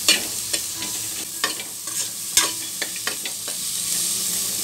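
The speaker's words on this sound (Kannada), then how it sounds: "ಚಕ್ಕೆ, ಲವಂಗ, ಯಾಲಕ್ಕಿ, ಸ್ವಲ್ಪ ಮೆಣಸು, ಈರುಳ್ಳಿ, ಬೆಳ್ಳುಳ್ಳಿ, ಶುಂಠಿ, ಇದನ್ನೆಲ್ಲ ಚೆನ್ನಾಗಿ ಫ್ರೈ ಮಾಡ್ಕೋಬೇಕು।" Cinnamon, cloves, cardamom, pepper, onion, garlic and ginger fry in a pan, a soft steady sizzle broken by sharp scraping stirs of a spoon, close by with no voices.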